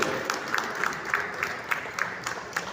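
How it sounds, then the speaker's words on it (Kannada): Audience applause at a poetry book launch, a steady wash of many hands clapping with a few sharper claps poking through, moderately loud and continuous throughout. "ನಮ್ಮೆಲ್ಲರ ಜೋರಾದ ಚಪ್ಪಾಳೆ ಮಾಡ್ರಿ"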